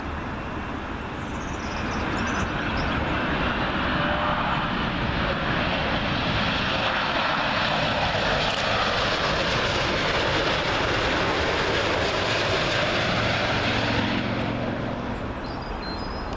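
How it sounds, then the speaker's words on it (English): An Air Canada Boeing 787 Dreamliner arriving from Mumbai lands on runway 27L at Heathrow, its engines a loud, steady jet roar that swells and holds across the whole stretch before easing slightly at the end. "Up next, Air Canada 787 Dreamliner coming in from Mumbai."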